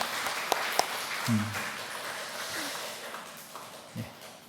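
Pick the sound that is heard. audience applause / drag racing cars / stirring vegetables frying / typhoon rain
audience applause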